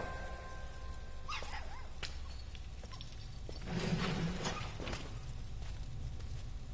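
A dog in the game Blues and Bullets gives a brief whine and a few soft vocal sounds over a low, steady background ambience. The dog sounds fairly faint and mid-distance.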